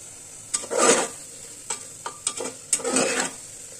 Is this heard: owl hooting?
no